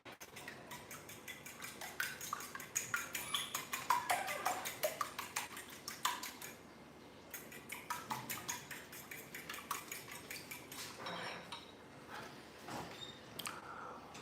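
Eggs and milk beaten together in a bowl with a utensil, producing rapid rhythmic clinking and scraping strokes that run in steady bursts with brief pauses, close and clear.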